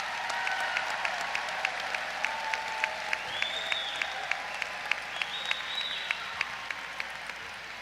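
Warm, steady applause from a large crowd for master's and specialist graduates at a spring commencement ceremony, continuous clapping with faint whoops rising over it for several seconds.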